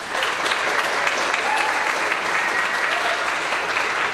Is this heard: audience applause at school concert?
yes